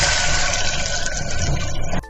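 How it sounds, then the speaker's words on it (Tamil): Water gushes steadily into a pot while cooking pongal, a close continuous splashing pour that cuts off abruptly at the end. "4 டம்ளர் தண்ணி ஊற்றுறேன்."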